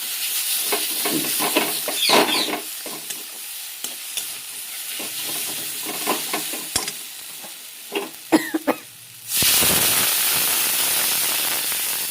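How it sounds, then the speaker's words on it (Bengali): Water poured into frying spice paste for a fish curry; quiet stirring and scraping with a few sharp clicks, then a sudden loud hiss and sizzle that carries on to the end. "মশলা আমার ভাজা হয়ে গেছে এবার জল দিয়ে দেবো"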